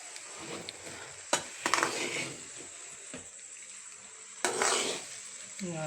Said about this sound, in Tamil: ஸோ நல்லா கிளறிக்கிட்டு இருக்கேன்.